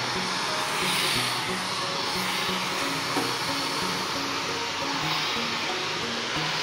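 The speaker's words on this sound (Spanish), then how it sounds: "miren cómo yo coloco el blower, que lo coloco un poquito retirado de lo que es el cabello" A handheld blow dryer drying hair, held slightly back from the hair, gives a steady, loud broadband airflow roar that runs unbroken and close throughout.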